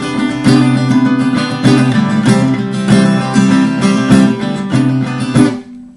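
Guitar strummed in a simple, steady rhythm that hits the strings on every pass, with some strokes accented, played close and loud with no talking.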